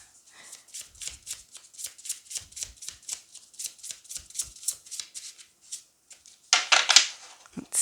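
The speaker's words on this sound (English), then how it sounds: "I can only shuffle that smoothly when it comes to decks of this size and thinness." Tarot cards from a thin, small deck riffle and snap in repeated quick bursts, a crisp close-up shuffling rhythm with short pauses and a louder flurry near the end.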